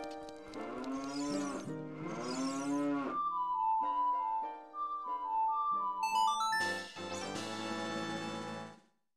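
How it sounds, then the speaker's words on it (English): Cows in the video game Ocarina of Time (randomizer) give two long synthesized moos in a row, followed by a bright melodic chime tune and a final chord, all clear and fairly loud. "I wonder if one of the cows is going to give you milk."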